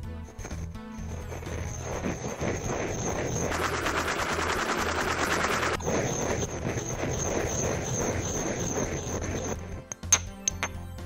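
Sodium bicarbonate, sulfur and pine charcoal are ground in a ceramic mortar, a close rapid scraping and rattling burst for a few seconds amid quieter clinks, with no talking.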